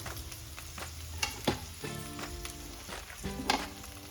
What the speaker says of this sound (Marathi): लगेचच आपण त्याला असं व्यवस्थित भाजून घ्यायचंय भेंडी सोबतच